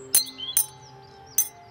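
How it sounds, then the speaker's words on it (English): Glass bottles tapped lightly, three bright ringing clinks with a short lingering tone, close and clear, with faint chirpy background sounds. "Or you can tap faster on all the bottles and repeat the sound."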